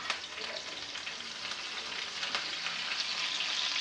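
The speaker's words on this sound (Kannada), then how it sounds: "ಬಿಸಿಯಾಗಿದೆ. ಕರಿಬೇವು ಸೊಪ್ಪು ಹಾಕ್ತೀನಿ." Curry leaves hitting hot oil for village-style red chilli chutney, a bright, busy crackling sizzle that stays steady and fairly quiet throughout.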